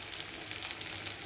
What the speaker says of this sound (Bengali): এভাবে পেঁয়াজ, রসুন, কাঁচা লঙ্কা, কালো জিরা, শুকনো লঙ্কা সব একসাথে ভেজে নিচ্ছি।